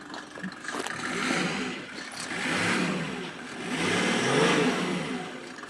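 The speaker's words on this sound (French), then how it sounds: "Allez, je fais 2-3 accélérations là." A Mercedes W124's engine is revved three times in succession, each acceleration swelling and falling back toward idle, close and fairly loud with no talk over it.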